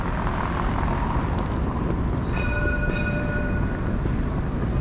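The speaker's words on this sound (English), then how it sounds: "There's a train" A train rumbles past close by in Dublin, Ireland, a steady heavy roar with brief high squeals and tonal whines from the wheels and rails.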